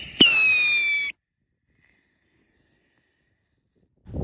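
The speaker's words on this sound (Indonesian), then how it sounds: "Selanjutnya kita nyalakan, ini ada mercon roket pirotor guys." A firework rocket is set off, giving a single bright whistling screech that rises briefly and cuts out after about a second, followed by silence.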